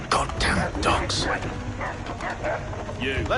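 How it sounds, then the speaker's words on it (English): Dogs in the video game Assassin's Creed 3 bark and yip in quick bursts amid battle noise and shouted voices, close and fairly loud. "Goddamn dogs."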